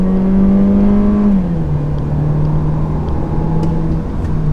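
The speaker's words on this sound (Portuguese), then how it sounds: "O carro canta até um pouquinho de pneu aqui em primeira marcha." Citroën C4 Cactus accelerating hard from a standstill in first gear: a loud, steady engine drone that dips in pitch partway through and carries on strongly to the end, with no talking.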